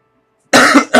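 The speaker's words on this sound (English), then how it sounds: "Darn it, coughing." A person lets out a sudden close, loud cough after half a second of silence, a single harsh burst followed quickly by a second short one.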